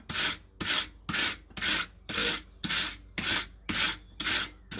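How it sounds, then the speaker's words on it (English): Forged steel pieces are scraped to knock off excess scale, giving nine loud, evenly spaced rasping strokes in a steady rhythm, close up with no talking. "try to scrape off some of the excess scale"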